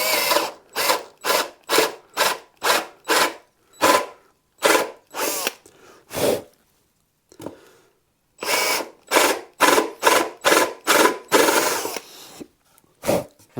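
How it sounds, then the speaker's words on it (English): A Dremel rotary tool with a small sanding drum buzzes in many short, rapid bursts with brief gaps, sanding a bass guitar body for fitting controls up close, loud and rhythmic, with no talking. "And to finish that off, I've just got a Dremel with a little sanding drum on."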